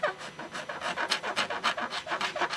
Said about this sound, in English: And then what I do after, I take a scraper.